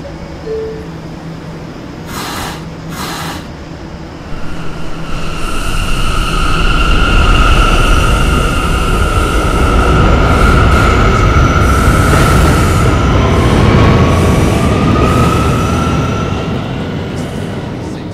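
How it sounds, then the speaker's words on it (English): A PTA subway K train rolls into Fairview Avenue station, a rising rumble of wheels with high metallic squeals sweeping over it, loud and close, no voices. "This is a Calhoun bound K train."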